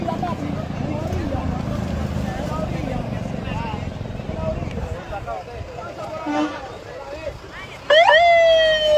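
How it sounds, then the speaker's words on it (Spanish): An ambulance siren wails under a noisy crowd of shouting voices, its rising and falling tone growing louder and sharper near the end. "¡Abran espacio a la ambulancia!"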